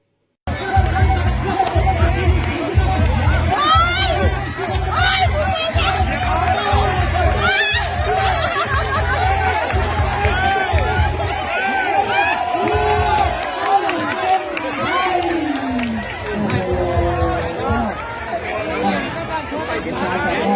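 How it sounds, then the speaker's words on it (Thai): Nearly five hundred villagers cheer, shout and chatter along the riverbank at a community five-paddler boat race, a dense, lively crowd roar with steady rhythmic thumping beneath it throughout. "มีชาวบ้านเกือบห้าร้อยคนมาร่วมแข่งขัน ร่วมชมร่วมเชียร์กันอย่างคึกคัก"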